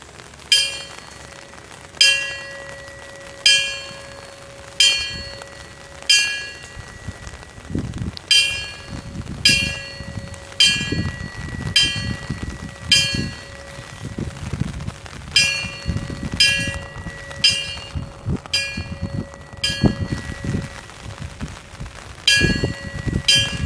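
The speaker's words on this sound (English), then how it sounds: "the bell rings 5 times in memory and in tribute to their life and service" A memorial bell at a 2015 September 11 ceremony rings in tribute, with clear metallic strikes at a slow, regular pace over a soft background hum and no talking.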